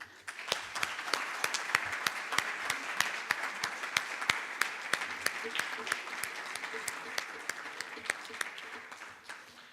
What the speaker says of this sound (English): A huge round of applause from back to front for this unstoppable class of 2014.